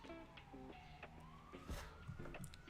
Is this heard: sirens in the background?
yes